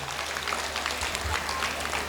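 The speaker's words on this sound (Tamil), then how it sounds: "கைத்தட்டுங்க ராஜா, எல்லாரும் சேர்ந்து." An audience at a school annual day applauds together, a dense, steady burst of clapping from many hands throughout.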